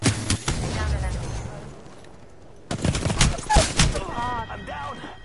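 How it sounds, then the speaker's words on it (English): Rapid bursts of gunfire in a video game, sharp and close, broken by a brief lull before more shots resume, with voices speaking over the action. "Getting shot at."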